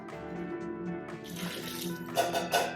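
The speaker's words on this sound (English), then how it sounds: "fill it halfway up with water and add the water in here" Water from a half-filled tomato can is poured into a pot of sloppy joe mixture, splashing and gurgling close by, growing louder toward the end.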